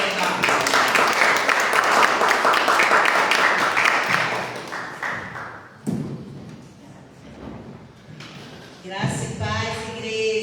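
A church congregation claps loudly at first; the applause thins and fades over several seconds, followed by a few thumps and a voice speaking near the end.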